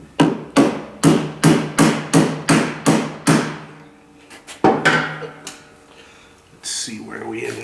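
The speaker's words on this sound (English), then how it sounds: "give it a couple quick taps with our plastic hammer" A plastic hammer taps a 2017 Suzuki GSX-R1000 front end about ten times in a quick even rhythm, close and sharp, then a few scattered taps before a low voice begins.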